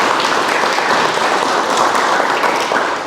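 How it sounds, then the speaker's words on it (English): A seated audience at an operations technology talk claps for the sponsors, a dense, loud, continuous wash of applause that eases off slightly at the end. "So if we could have a round of applause for our sponsors"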